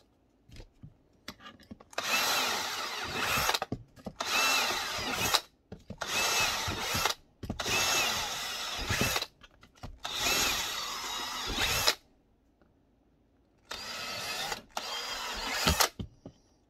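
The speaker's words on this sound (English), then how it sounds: "I'm going to go ahead and drill 5 here and then another there" A power drill bores holes into a Glock 34 frame in several separate bursts, each a whining, grinding run of one to two seconds, with short quiet gaps and small handling noises between them.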